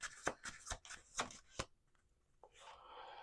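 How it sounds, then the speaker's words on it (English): Tarot cards are shuffled by hand in a quick run of crisp riffling snaps, close and fairly quiet, then a softer shuffling rustle after a short pause. "Let's do one more shuffle here."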